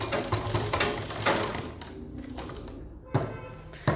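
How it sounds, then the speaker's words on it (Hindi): A sewing machine runs stitches along a folded piece of suit fabric in quick mechanical rattling bursts, easing off midway before a few more sharp taps close by. "ऐसे हमने अपनी मशीन के नीचे कपड़े को रखा और ऐसे ही सिलाई लगाना स्टार्ट करेंगे"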